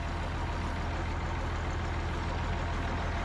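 Engine of an SM 1200 tractor in the Farming Simulator 25 video game, running at a steady idle with a continuous low rumble and a fine, even throb, loud and unbroken throughout with nothing else audible.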